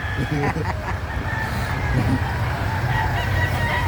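Chickens cluck and call over a loud, steady background rumble, with a few sharper bursts of fowl noise near the start.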